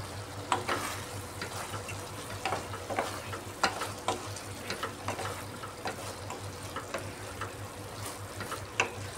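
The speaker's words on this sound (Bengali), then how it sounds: "এবার ভেন্ডির সাথে আমি একটু সুন্দরভাবে কষিয়ে নিচ্ছি।" Okra and green chillies sautéing in a pan, a steady close sizzle with repeated scraping stirs of a utensil at an uneven rhythm, no voices.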